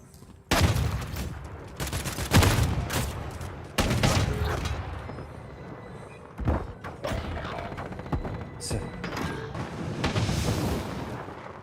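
Gunfire in a Call of Duty: Modern Warfare III multiplayer Search and Destroy match comes as dense booming bursts and thuds that keep going through the whole stretch, loud and layered.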